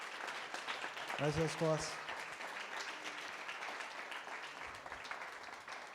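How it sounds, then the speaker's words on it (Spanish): Congregation applauding in a church, a moderate burst of clapping under a sung or spoken voice, then fading as someone speaks briefly. "Dale un aplauso al Señor."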